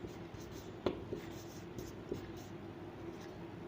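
Chalk or marker writing on a board during a Hindi literature lesson: faint, soft scratching strokes with a few small taps, under a steady room hum with no talking.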